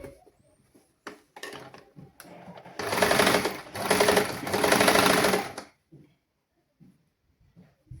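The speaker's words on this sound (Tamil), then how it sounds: "இப்போ வேறு நாங்கள் தைக்க போகலாம்" A sewing machine stitches fabric during a basic tailoring lesson, starting with a few short clicks and bursts, then running in two longer loud, close whirring runs before stopping, with no talking.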